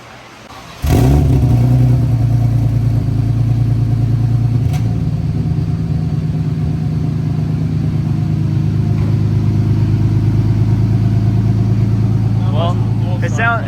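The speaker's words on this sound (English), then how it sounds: "Let's get a cold start." A supercharged BMW E46 M3 engine cold-starts with a sharp crank and catch, then settles into a loud, steady high idle with a throbbing exhaust rumble close by, and voices talk faintly near the end.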